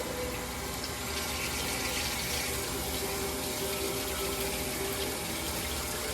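Water runs steadily over cylinder walls being wetted down for diamond honing, a continuous close hiss and splash that holds at an even level throughout, with no talking.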